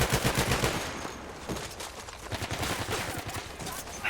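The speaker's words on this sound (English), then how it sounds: "Oh, good shots there by Terminator." Rapid bursts of gunfire in a Battlefield 1 tournament match, dense overlapping shots and automatic fire continuing throughout, loud and close with battlefield noise.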